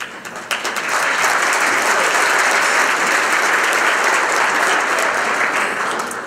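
A warm, steady round of audience applause at an inaugural ball greets young harp players, dense clapping swelling quickly and holding loud and even for several seconds before easing slightly.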